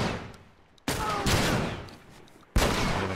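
Gunfire in The Last of Us: two sharp, loud broadband blasts about a second and a half apart, each ringing out and slowly decaying, with a third shot breaking in right at the end.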